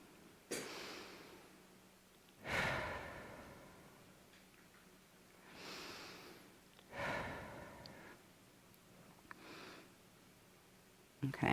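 Slow, relaxed breaths come in several long, soft swells spaced a few seconds apart during a guided breathing exercise, close and quiet against a faint steady hum.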